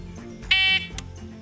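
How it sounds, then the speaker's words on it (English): A shooting practice timer gives a single short, loud electronic beep, clear and close, set against low steady background noise. "Next, we have a very important piece of equipment, the timer."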